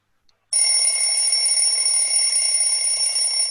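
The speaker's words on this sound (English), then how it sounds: "Does it ring or something, or does it make a ring when it's done?" A kitchen timer rings once it finishes, a continuous bright electronic ringing that begins abruptly and holds steady and loud for about three seconds.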